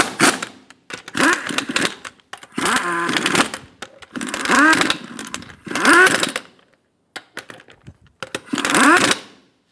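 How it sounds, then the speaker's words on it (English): A power wrench spins lug nuts onto a 2007–2017 Ford Expedition wheel in several separate close, rattling bursts of about a second each, with short pauses between them. "Snug down the lug nuts."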